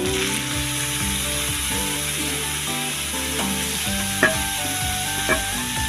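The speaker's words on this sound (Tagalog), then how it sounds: "Lagyan natin ang ating mushroom. Igisa na natin." Mushrooms and malunggay sautéing in a pan, a loud continuous sizzle with scraping stirring strokes and a couple of clinks from the utensil, close up and without speech.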